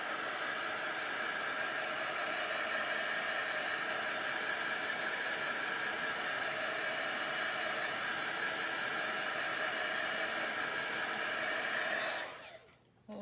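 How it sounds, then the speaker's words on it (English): A heat gun blows a steady, loud rushing hiss over craft paper for about twelve seconds, then cuts off abruptly. "I'm going to hit that again one more time with the heat gun."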